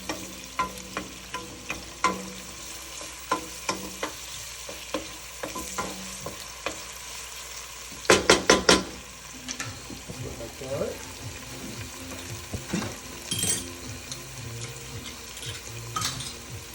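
Italian Sunday sauce stirred continuously in a pan over high heat: a soft sizzle runs under scraping spoon strokes, with a quick cluster of sharp metallic clanks midway and scattered knocks afterward.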